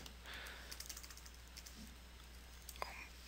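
Faint, scattered computer keyboard keystrokes as a size value is typed, light clicks over a low steady hum, with one sharper click near the end.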